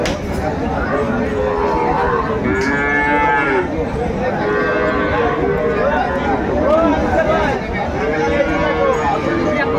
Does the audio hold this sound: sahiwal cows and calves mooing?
yes